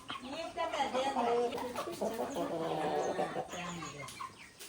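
Chickens clucking in a busy, continuous cluster of calls close by, with a person's voice mixed in among them.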